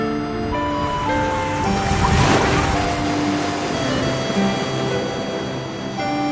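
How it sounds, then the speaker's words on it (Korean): Rough, dirty sea waves crashing on the shore: a loud, continuous roaring surf that swells to a peak near the middle, then carries on as a steady wash with no voices. "쉴 새 없이 들이치는 파도에 몸도 제대로 가눌 수 없는 상황"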